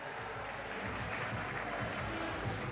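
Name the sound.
crowd applause for the main event winner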